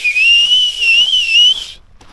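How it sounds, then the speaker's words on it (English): A loud, steady fingerless whistle holds a high, slightly wavering pitch for about a second and a half, then cuts off abruptly and leaves near silence. "I tried learning how to do the fingerless whistle"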